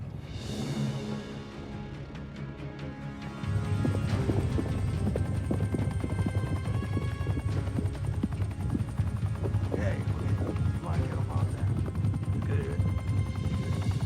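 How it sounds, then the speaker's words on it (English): A helicopter arrives amid a tense disaster-film scene, a loud steady rotor drone swelling in after a few seconds and holding strong beneath music and other noise. "Chopper's back. Let's get the hell out."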